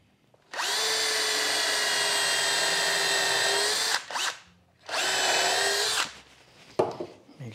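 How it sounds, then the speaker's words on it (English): A power drill drives a screw into a wooden shooting board in two close, loud bursts of high whirring, the first about three seconds long and the second shorter, followed by a few light knocks. "And just put one screw in there to hold it."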